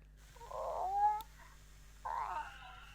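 A Japanese Agatsuma toy cat lets out two drawn-out, slightly electronic meows close up, with a short pause between them and a quiet, steady background.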